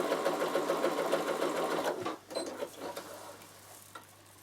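A Bernina sewing machine with a walking foot runs steadily, quilting a small Christmas kitchen heat pad at a longer stitch length; the fast, even motor whir and needle clatter stop abruptly midway, leaving quiet handling noises.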